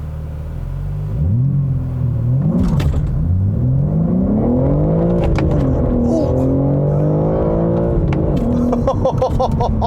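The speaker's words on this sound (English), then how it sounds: "Now, 0 to 60 performance is not the point with a manual, but I figured I'd go ahead and try it" A 2022 BMW M3 Competition xDrive with a manual gearbox launches 0 to 60, its engine roaring loud and close as revs climb, drop sharply at each gear change, then rise again through several shifts.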